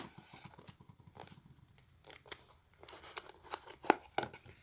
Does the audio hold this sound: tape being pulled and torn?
yes